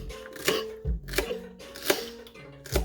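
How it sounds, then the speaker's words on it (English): Knife dicing a celery stalk on a cutting board, four crisp, evenly spaced chops about half a second apart, close and clear over soft background music. "So we're just dicing it up. moving down the celery stalk until you're done."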